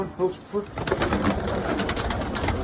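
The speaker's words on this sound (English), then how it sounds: "It's actually pigeon there, 2 pigeons with stronger legs" Pigeons cooing in a loft, soft throaty coos close to the microphone amid rustling and shuffling, with someone talking briefly at the start.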